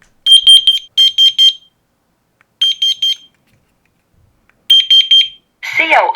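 A wireless combination smoke and carbon monoxide alarm sounds its test pattern: loud, piercing bursts of rapid beeps in groups with silent gaps between, followed at the end by a brief synthetic spoken announcement.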